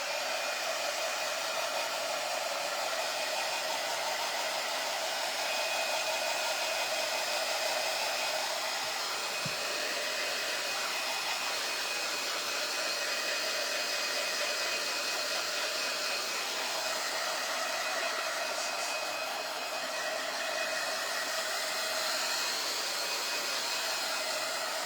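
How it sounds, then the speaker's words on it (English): A hair dryer blows steadily on a wet craft project, a loud, continuous whooshing roar that stays even for the whole stretch with only slight wavering. "let me just hit it just one more minute on the dryer"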